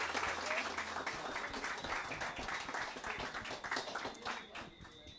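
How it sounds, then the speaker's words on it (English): An audience applauds a presenter after a talk on invasive seagrass. Steady, dense clapping fills the room for several seconds and tapers slightly toward the end. "Give her another round of applause,"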